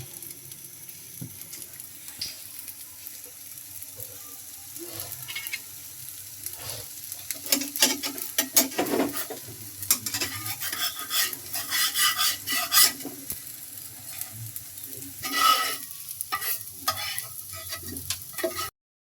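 Rice-flour batter for chita roti squeezed from a pierced bottle into a hot pan, sizzling steadily with scraping and stirring clatter, growing busier toward the end.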